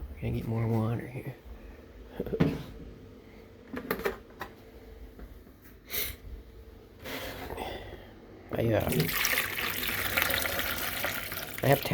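Town tap water running into a bucket, a steady splashing rush that swells louder in the second half, with someone talking over parts of it.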